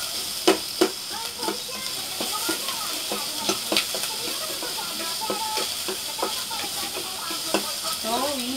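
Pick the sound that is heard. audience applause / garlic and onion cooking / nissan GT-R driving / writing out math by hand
garlic and onion cooking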